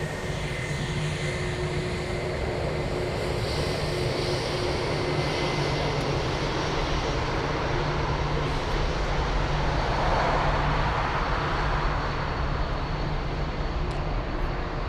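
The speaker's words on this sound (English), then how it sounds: "This is Lufti Flight 2XV coming in from Athens, Greece on an A321." An Airbus A321 airliner arriving from Athens lands at Frankfurt Airport. A loud, sustained broadband engine and airflow roar holds steady throughout, with no talking.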